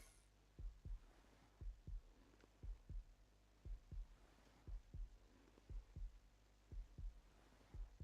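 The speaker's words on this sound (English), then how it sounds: "You can hear that low health heartbeat sound" A low-health heartbeat effect in a video game thumps as a steady, faint double-beat pulse, repeating evenly under a soft background hum with no voices.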